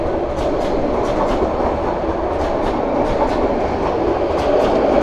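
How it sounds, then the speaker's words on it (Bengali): Sonar Bangla Express, a nonstop train from Dhaka to Chittagong, overtakes on a neighbouring track, heard from another train: a loud, steady rail roar with periodic clicking wheel beats throughout. "এটা সোনার বাংলা এক্সপ্রেস, যেটা আমাদের ওভারটেক করলো।"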